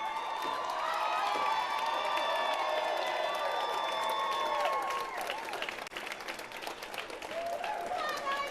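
A crowd at a stock market closing bell cheers and applauds, a dense roar of clapping and shouts with whistling voices, loud at first and easing slightly toward the end.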